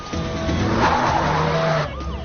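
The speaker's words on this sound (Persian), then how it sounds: "اکنون گاز را زیر کن." Car accelerating hard with tires skidding and squealing while escaping police, a loud sustained engine roar and screech that cuts off abruptly near the end.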